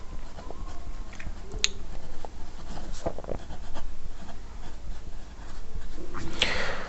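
Pen scratching across paper while writing out working notes for an accountancy solution, soft irregular strokes with a couple of sharp ticks, close and quiet, no talking.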